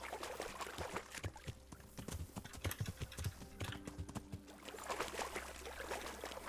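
Horse hooves clip-clopping through deep water and brush in the video game Kingdom Come: Deliverance, irregular splashy steps moving close by over a continuous watery rumble.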